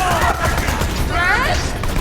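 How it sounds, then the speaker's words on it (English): Enemy gunfire and grenade blasts in the shooter game Borderlands 2, a dense, continuous barrage of rapid shots and bursts, loud and close throughout. "They don't come up here, but their bullets and their grenades do."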